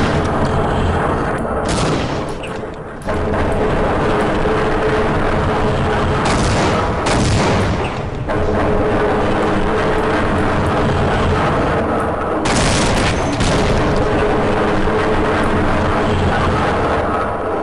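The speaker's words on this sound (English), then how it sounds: "A grenade at my feet." In the game Half-Life: Opposing Force, a grenade explodes with a loud boom amid sustained heavy gunfire and repeated blasts, a dense, continuous roar of combat with several sharp bursts.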